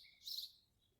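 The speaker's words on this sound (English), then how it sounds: "The birds are gonna die soon." Birds chirp in a short, faint burst of high tweets, heard alone with no voices.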